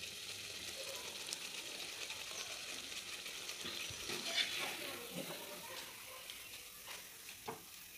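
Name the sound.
kachori frying in oil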